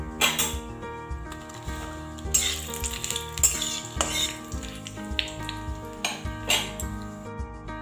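Bay leaf dropped into hot oil in a pan, added after frying nuts, while making spiced broken wheat (dalia); steady close sizzling and crackling with occasional utensil clinks, no talking.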